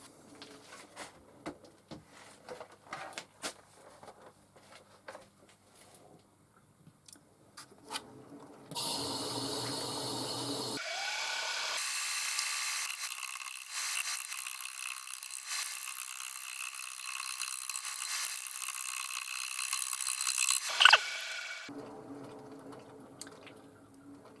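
A wood lathe turns a cherry crotch bowl at about 400 RPM, producing a steady, faint hissing whir of cutting that runs for about twelve seconds between quieter workshop sounds.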